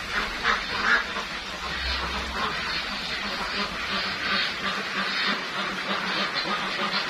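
Ducks quack steadily in a pen of old laying breeder ducks, a dense overlapping chorus of nearby calls that runs continuously without any talking.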